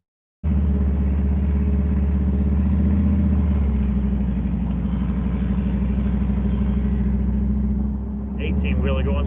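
Car with an LS engine driving with the windows down, a loud continuous engine drone and whine under steady road rumble, close up, with a brief change in pitch near the end.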